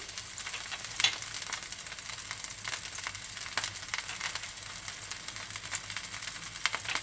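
Rava (suji) uttapam sizzles and fries steadily in oil on a hot pan, a continuous crackling hiss with small pops, close and moderately loud, with no talk.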